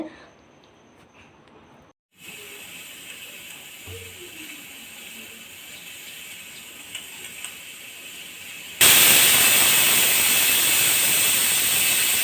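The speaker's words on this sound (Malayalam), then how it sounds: "അപ്പോൾ നമ്മുടെ കുക്കറിൻ്റെ വിസിൽ വന്നിട്ടുണ്ട്" A pressure cooker holding dried jackfruit with salt and turmeric lets out a loud, steady steam hiss late in the clip, following several seconds of quieter kitchen background.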